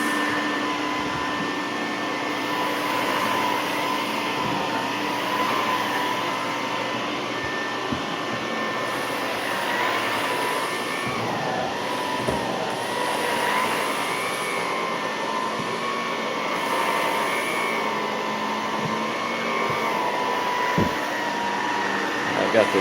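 An Electrolux Olympia One vacuum cleaner runs continuously under low furniture, its steady whining hum staying loud and close, with occasional soft bumps and knocks as the nozzle moves.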